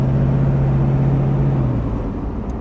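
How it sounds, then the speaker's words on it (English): A Mercedes W111 280 SE 3.5 convertible with a V8 engine cruising along, heard as a steady, close, low engine drone and road rumble with no voices. "a beautiful feeling driving in the convertible 280 SE"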